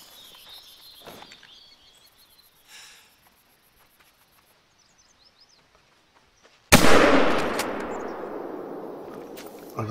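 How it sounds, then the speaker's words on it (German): A single loud rifle shot fired at a bison in the hunting game The Hunter: Call of the Wild, a sharp crack following quiet ambient birdsong, then a long rolling echo that slowly fades. "Das war jetzt nicht der beste Schuss"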